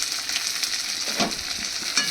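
Mung dal frying lightly in a small amount of oil, a steady close sizzle with soft stirring scrapes rising now and then, and no talking.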